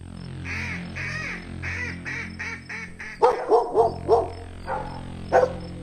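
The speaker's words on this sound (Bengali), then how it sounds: "ঘেউ ঘেউ তো থামাচ্ছেই না" A dog barks in a rapid run of repeated, tonal yelps, followed by a few louder, sharper barks, close and prominent over a steady background drone.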